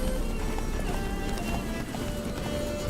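Roach the horse gallops in The Witcher, hooves clip-clopping in a fast, steady rhythm close by, under a bed of game music and ambience.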